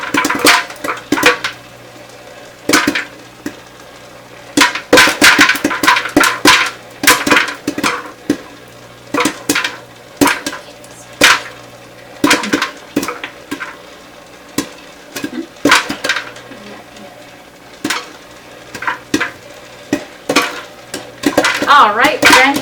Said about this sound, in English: see and smell and hear the popcorn cooking